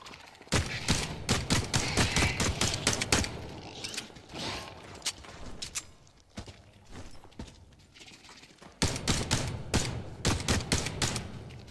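Pistol gunfire in the video game Cycle Frontier, bursts of sharp rapid shots in two clusters separated by a quieter stretch with clanking mechanical noises, close and loud.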